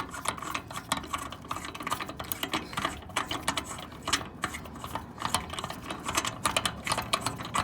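A ratchet wrench works on a specialty lug nut, its rapid dense clicking running continuously and close for several seconds with no speech.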